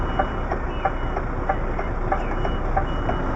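An HGV articulated truck engine runs loud and close while it reverses, a constant low heavy drone with a faint, regular ticking beat over it and no speech.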